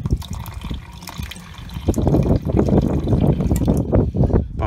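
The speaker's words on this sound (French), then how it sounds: "Le robinet de la cuisine, c'est là. J'ai ouvert la vanne." Water runs from a kitchen tap into a Dometic sink after the supply valve is opened, a steady close splashing flow that grows fuller and louder partway through, with no talking.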